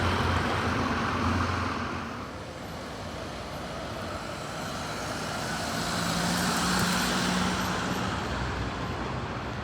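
A Scania N250UD double-decker with ADL Enviro 500 MMC body on the airport flyer passes nearby: a loud, broad diesel engine roar that swells, dips and rises again amid street traffic, with no talk.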